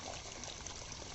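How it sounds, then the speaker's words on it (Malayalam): Floodwater from heavy rain flows down a narrow lane, a faint, steady rushing trickle that continues without a break. "ചെറിയൊരു ഇടവഴിയിൽ നിന്ന് വെള്ളം ഒഴുകിക്കൊണ്ടിരിക്കുകയാണ്"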